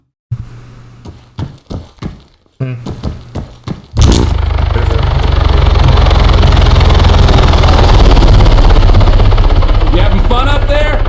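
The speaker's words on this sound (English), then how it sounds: "Staff Sergeant Adams flying a virtual helicopter" Helicopter in the video game ArmA 3, its rotor and engine spooling up into a loud, steady, dense roar that continues after a few short knocks and bursts at the start.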